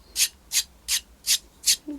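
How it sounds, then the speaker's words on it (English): A hard foot rasp scrapes dry skin on a foot in five even, rhythmic rasping strokes, close and distinct. "you can use a hard foot rasper like the next tool I'm going to show you"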